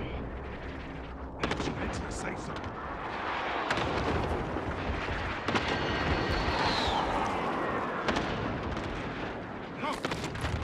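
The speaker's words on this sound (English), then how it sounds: "I need close air support on this target." A close air support strike hits a target in a video game: loud, dense battle noise with repeated sharp cracks and booms, a rising aircraft-like whoosh midway, and voices heard faintly underneath.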